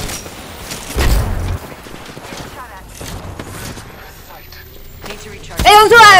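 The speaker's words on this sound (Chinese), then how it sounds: "机枪，机枪。" Machine gun fire in a first-person shooter game, with bursts of gunfire and impacts mixed under excited speech from a player; a louder burst comes near the start and another toward the end.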